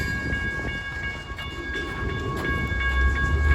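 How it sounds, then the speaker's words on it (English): A long freight train on the Hannibal Sub rolls along the tracks at Sublette Avenue with a steady, close rumble and a grinding, ringing metallic whine, growing slightly heavier toward the end, with no talking. "this train is on the move again"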